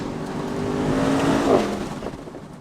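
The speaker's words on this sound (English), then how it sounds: "you can hear the turbo" A Mercedes-Benz AMG SL63 roadster's turbocharged engine accelerates, a rising whine climbing in pitch with a sharp peak and shift, then settling back, heard loud and fairly close without talk.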